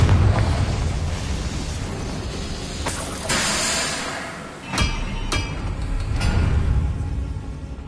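The Confringo fire spell goes off in Hogwarts Legacy, giving a loud, close combat roar of crackling blasts, with several sharp bangs and hissing bursts over a rumbling game soundscape.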